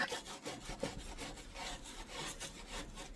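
A gas stove gets scrubbed clean with repeated rough back-and-forth rubbing strokes, close and rhythmic, in a short stretch without speech.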